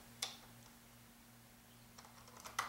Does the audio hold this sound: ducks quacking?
no